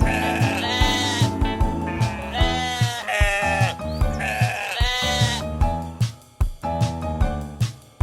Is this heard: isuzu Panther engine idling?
no